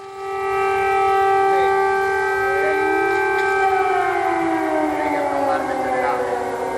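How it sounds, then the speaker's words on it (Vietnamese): An air raid siren wails over Kyiv, rising quickly to a loud, sustained tone that slowly bends and falls in pitch, echoing across the quiet city. "tiếng còi báo động của những cuộc không kích đến từ Nga"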